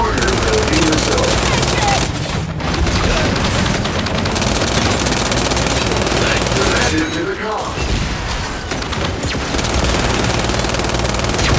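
Gunfire in the video game Gears of War 5: dense, loud bursts of automatic weapon fire and explosions fill the whole stretch, with brief lulls, while voices call out over the battle.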